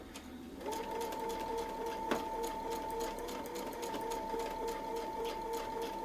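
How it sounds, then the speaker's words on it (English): Sewing machine stitching steadily along a Westalee Tecoma template, a continuous close, even whir with a rapid needle rhythm that starts after a short pause and runs without a break. "we're going to sew up."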